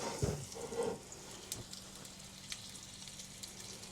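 Salmon frying flesh side down in a hot pan, a soft steady sizzle with a brief louder hiss at the start as the fish goes in, then a faint even crackle.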